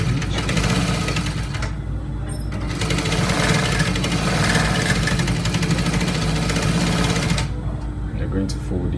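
A sewing machine stitches trouser fabric in loud, continuous mechanical runs, with a couple of short pauses where a voice speaks.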